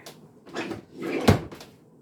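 A kitchen drawer is pulled open and pushed shut, with a few soft rumbling slides and one sharp wooden clunk, close by.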